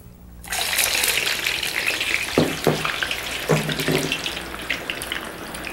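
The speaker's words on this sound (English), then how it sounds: "which is the ideal temperature for deep frying our vegetables" Vegetables drop into hot ghee and a loud, steady bubbling deep-fry sizzle follows, with a few soft clunks as pieces go in.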